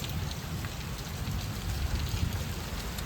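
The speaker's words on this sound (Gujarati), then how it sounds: "ગાજે છે વરસાદ. આવશે એવું લાગે છે ફાસ્ટ." Heavy rain pours down steadily with wind and thunder, a close, dense patter with a deep low rumble underneath and no voices.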